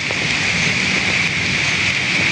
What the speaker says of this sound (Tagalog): Ayan po, umpisa na naman po yung ulan.